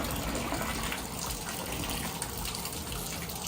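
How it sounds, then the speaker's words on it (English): Hot water pours steadily into a bathtub over submerged football cleats, a continuous close gushing rush at even volume with no talk. "letting the hot water hit it for about like a minute to 30 seconds"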